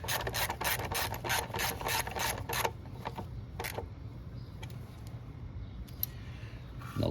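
A hand ratchet snugs the bolts on the front wheel of a Honda GL1500 Goldwing, making quick rapid clicking strokes up close, then a quieter stretch of scattered clicks and metal handling.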